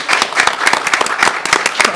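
Loud, close clapping from a small studio group, brisk and fairly rapid hand claps running steadily throughout.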